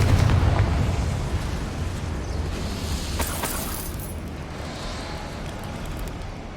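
Confringo explosion spell cast in Hogwarts Legacy on PS5: a loud, rumbling blast that opens strongly and decays into a long, rolling roar, with a brief crackling burst partway through.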